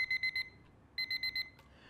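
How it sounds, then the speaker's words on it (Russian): An old alarm clock rings in two bursts of rapid bell pulses, four sharp rings then a pause and four more, loud and close with no voices. "и, конечно, старый добрый будильник"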